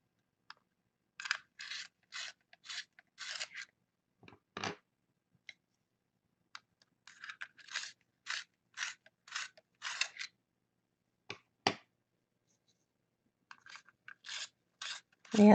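Flesh-tone colored pencils being sharpened, producing quiet, close runs of short rasping grinding strokes in rhythmic bursts, separated by silent pauses and a few isolated taps.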